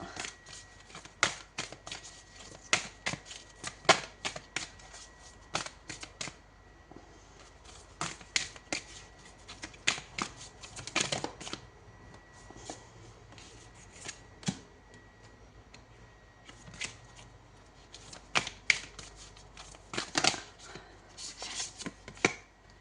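Tarot cards shuffled at length by hand before a single card is drawn, a long sequence of sharp papery riffles, flicks and taps in irregular bursts, close up in a quiet room with no talk.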